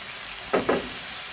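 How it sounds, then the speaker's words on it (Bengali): Fried baim fish sautéing with potatoes in a pan gives a soft, steady sizzle, broken by two quick stir-scrapes close together in a short, quiet moment. "এখন এখানে ভেজে রাখা মাছগুলো একটু কষিয়ে দেবো"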